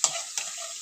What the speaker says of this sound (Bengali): কড়া করে ভাজবেন, লালচে লালচে করে কড়া করে ভাজবেন